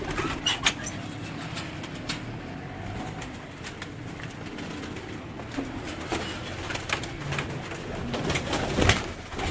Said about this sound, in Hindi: जितने हमारे ब्रीडर कबूतर हैं, ये हमारे मादा का है डरबा जी